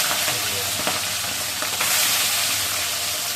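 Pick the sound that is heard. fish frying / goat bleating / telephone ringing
fish frying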